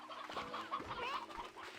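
Stony hens cluck in Slime Rancher 2, several short throaty clucks and chirps overlapping at a moderate distance over a quiet ranch backdrop, with no one talking.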